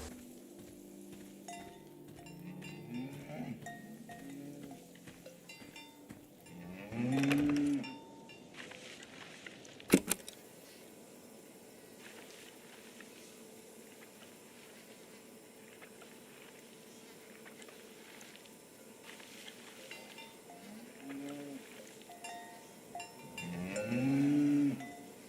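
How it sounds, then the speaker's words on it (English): Cows moo twice in the video game SEASON: A Letter to the Future, one low call early on and another near the end, over a quiet outdoor backdrop with a sharp knock in between. "Oh, there are cows here."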